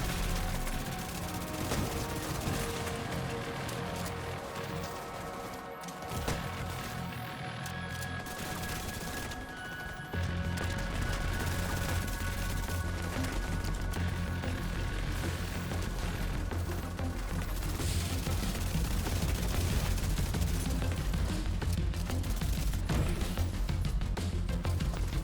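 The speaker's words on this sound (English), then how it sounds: "Fire LMG, man." Sustained light machine gun fire in The Division 2 Dark Zone PvP, a dense continuous roar of rapid shots with booms and impacts mixed in, loud throughout and heavier in the second half.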